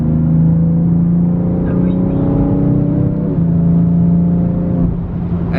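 Cabin engine note of a 2018 BMW M3 CS, a deep steady drone heard from inside the car with a brief rev change midway, people talking over it.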